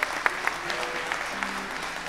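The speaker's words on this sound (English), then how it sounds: "give the Lord another hand clap of praise" A church congregation claps in praise during a Sunday morning service, a dense, steady burst of many hands with a few sharper claps standing out, while a voice murmurs faintly underneath.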